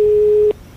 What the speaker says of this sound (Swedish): Och Ola Norén ringde till ett läkemedelsföretag.